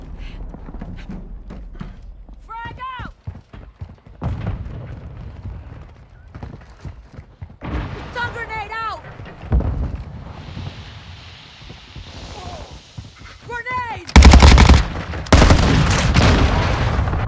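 Gunfire in a Call of Duty match: scattered shots mixed with other game effects, then a loud, sustained burst of firing near the end.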